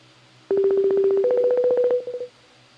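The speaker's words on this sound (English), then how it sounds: "That's a mean ringtone right there." A telephone dials out during a live open-mic call-in show, with a quick, even run of about fifteen touch-tone beeps stepping up in pitch partway, loud and close, with no ringing heard afterward.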